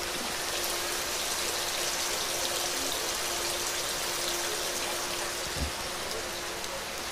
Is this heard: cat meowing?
no